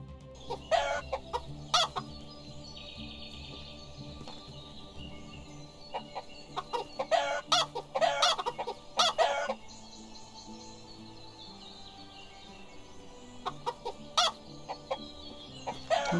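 Chickens on a video game farm cluck in repeated bursts over a low steady background hum, the sharp calls bunching together and then pausing before starting again.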